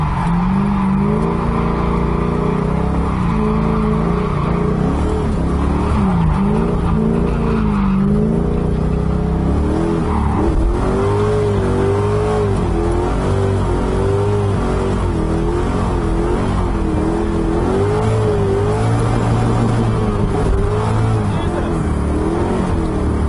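A Mazda Miata swapped to an LS V8 roars loudly and close by as it accelerates and revs. The engine pitch keeps rising and falling through the run, with faint tire noise underneath.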